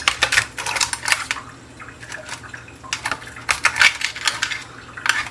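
A metal spatula scrapes and clinks against a baking tray, prying off hot French onion soup crostini, in short clattering bursts separated by quieter pauses.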